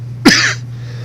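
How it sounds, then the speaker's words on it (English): A man gives a single sharp, loud cough close to the microphone during a one-on-one barbershop interview, over a steady low electrical hum. "got this cough,"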